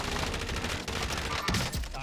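Rapid bursts of gunfire in Call of Duty Warzone, dense and loud, with a sharper shot standing out near the end amid game noise.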